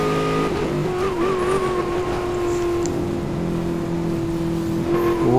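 Video game muscle car (a Charger) racing at speed, engine holding a steady high drone with pitch shifts and tire skids, loud and continuous with no talk.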